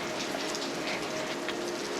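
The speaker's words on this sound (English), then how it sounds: "Water is dripping." Steady patter of water dripping and splashing inside a cliff tunnel beside a waterfall, a dense rain-like hiss with occasional distinct drops, constant throughout.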